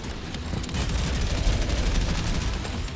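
Heavy automatic gunfire in the retro shooter game Prodeus, a loud, continuous rattling barrage of shots lasting the whole short clip.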